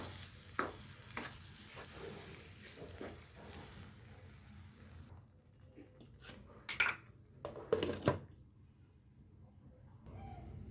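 Vegetables and yogurt for a Hyderabadi veg dum biryani are stirred in a pot, giving soft scraping and sizzling with a few sharper clinks of a spoon against the metal, close and fairly quiet.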